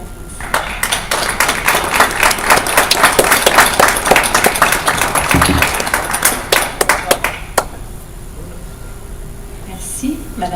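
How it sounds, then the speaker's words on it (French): A city council meeting in Longueuil breaks into applause, a brisk run of many hands clapping that builds for several seconds and then tapers to a few stray claps and quiet room noise. "ça mérite une solide main d'applaudissement"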